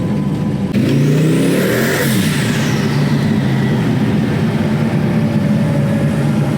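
A car engine drones loudly from inside the cabin while cruising, with a rising and falling whine early on before settling into a steady dense roar.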